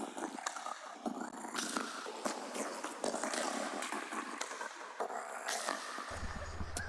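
A dark psychedelic ambient synth pad built in Serum, swelling and textured with shimmering noisy highs and scattered clicks, sustained at a steady moderate level with no talking.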